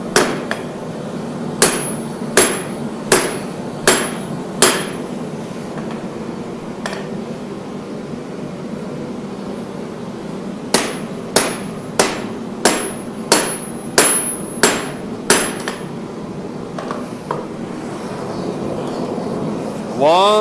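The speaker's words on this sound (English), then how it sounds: "One hammer blow went astray, and I kind of messed up my transition" Hammer blows forging a hidden tang stag knife in a forge, struck in two bursts of sharp metallic strikes, about six evenly spaced, then a pause, then about eight more in quick rhythm, loud and close over a low forge hum.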